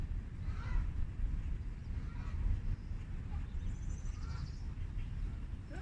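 Canada geese honking beside a river, a few scattered calls at a moderate distance over a constant rumble of wind and water.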